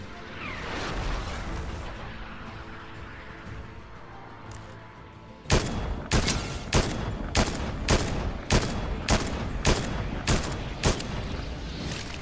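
Rocket launcher in the video game Fortnite firing about a dozen loud, sharp blasts in a steady rhythm, each with a short crashing tail, following a stretch of busy game ambience.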